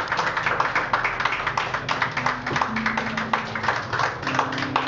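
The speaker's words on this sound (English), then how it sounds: "Let us give them a round of applause." Wedding guests applaud a newly declared couple at a church ceremony, a steady patter of many hands clapping at moderate volume for several seconds, with no voices over it.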